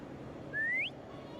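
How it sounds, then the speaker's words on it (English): Short rising whistle from a character in a video game, a single clear note lasting under half a second over a quiet background hum. "Try whistling."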